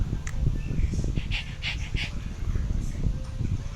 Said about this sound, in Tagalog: Ito lang talagang aso kong kulit.